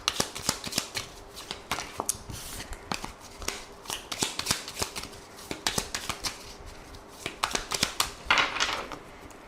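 A deck of tarot cards shuffled and cut by hand, giving a close, continuous run of crisp flicks and slaps with a denser riffling burst near the end.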